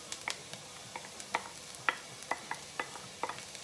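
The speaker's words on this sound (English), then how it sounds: "I'm gonna go ahead and add the ginger and the garlic" Ginger and garlic hit a hot pan of softened onions for a Thai red curry, giving light crackling sizzles and scattered stirring clicks, close and fairly quiet, with no talking.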